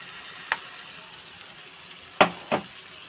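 Tomato masala with ground coconut and chili being added to a hot pan, giving a steady low sizzle broken by three short spattering bursts, close by with no talking.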